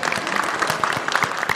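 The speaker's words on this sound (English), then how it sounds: "Round of applause." Audience applause at a live PAX East 2024 gaming panel, a short steady burst of many hands clapping in a crowded hall, with no voices over it.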